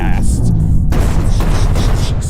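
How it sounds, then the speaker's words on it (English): A loud, dense burst of a Ki Blast explosion effect in a video game showcased at an indie game fan event fills the whole moment with a deep rumbling roar and crackling debris, sustained throughout. "Explosions everywhere."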